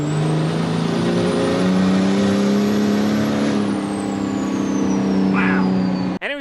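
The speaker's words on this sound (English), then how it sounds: "We did a boosted launch just after we got it back from Fire Punk." A 1113-horsepower truck on heavy American Force wheels roars through a boosted launch, a loud, sustained engine note holding steady and then easing off, ending with a sharp mechanical clunk.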